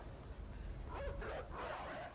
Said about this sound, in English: there's dogs over there.